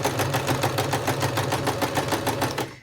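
A sewing machine stitches fabric in a fast, even rhythmic clatter of needle strokes, close and steady for a few seconds before stopping at the end.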